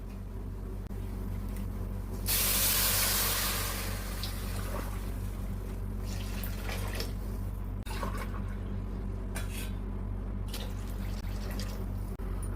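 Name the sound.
pouring boiling water into Jeerakasala rice for biryani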